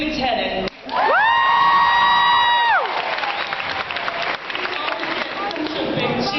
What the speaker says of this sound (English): Such a big cheer.